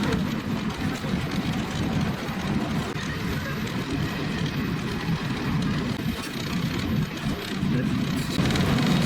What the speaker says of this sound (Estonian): Nii väike rong hakkas nüüd kihutama alles.